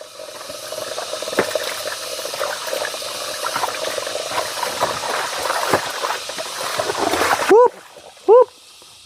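A man bathing outdoors as water is poured and splashed over him, loud irregular splashes and pouring that stop near the end, followed by a couple of short bright scrapes or clinks.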